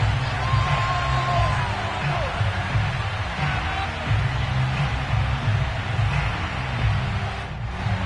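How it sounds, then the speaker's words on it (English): A home stadium crowd roars steadily at a football game after a favourable call, a broad sustained cheer with scattered whoops, under a commentator's voice. "This home crowd, they're happy with that call."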